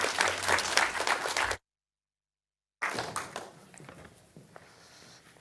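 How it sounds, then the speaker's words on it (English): Audience applause welcoming a speaker to the stage at a Geelong pitch event, steady clapping that breaks off in a silent gap, then resumes and tapers away to a few scattered claps. "Give her a big clap."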